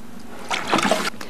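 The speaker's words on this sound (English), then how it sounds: "At this point, we're going to add 2/3 full of water." Water poured into a bucket of lime putty, a brief splashing trickle lasting under a second over quiet room noise.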